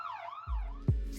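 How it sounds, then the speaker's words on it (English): Police sirens wail and sweep in pitch as emergency vehicles approach, with a low rumble rising partway through and a brief thump near the end, loud and close. "you hear the sound of police sirens incoming, with police cars and ambulances not too far out of sight and making their way toward you"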